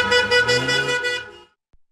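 Car horns blare together as drivers protest on a street in Turkey, a loud, harmonically rich honking that pulses for about one and a half seconds before cutting off, followed by a faint thump.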